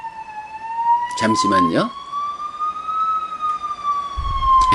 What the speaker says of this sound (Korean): 큰 길 가까이 있는 건물이다 보니까 이렇게 앰뷸런스의 소리가 좀 길게 나네요